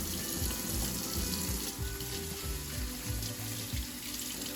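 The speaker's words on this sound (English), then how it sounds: "So you're gonna turn on your water so it gets a little warm" Tap water runs steadily from a faucet into a sink during handwashing with soap, a loud continuous rushing stream filling the whole stretch without pause.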